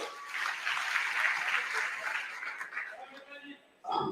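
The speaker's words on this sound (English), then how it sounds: "Once again, a round of applause for our board chair." An audience at a mayor's bronze and silver award ceremony applauds the board chair, a fairly faint, steady spatter of clapping that fades out before a voice comes in at the very end.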